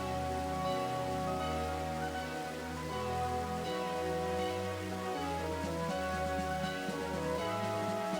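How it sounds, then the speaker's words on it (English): Steady soft rain hiss in the Pokemon Black 2 video game, running continuously beneath a melodic game music track with shifting low notes, no voices. "It's raining."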